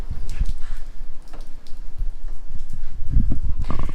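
Steady rain patters and thuds close by around a parked 2011 Ford Explorer, with irregular drops striking a hard surface and low rumbling wind noise throughout.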